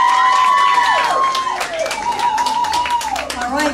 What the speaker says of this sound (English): give all of them just the biggest round of applause